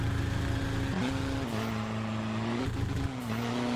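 A Volkswagen Polo engine revs in the Roblox video game, a loud, steady synthetic drone that steps up and down in pitch through several gear changes, with no talking.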